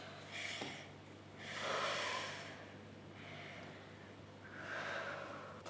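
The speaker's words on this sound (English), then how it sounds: "Try taking just a few deep breaths." Several slow, deep breaths, audible inhales and exhales alternating at an unhurried pace, close and quiet with no talking.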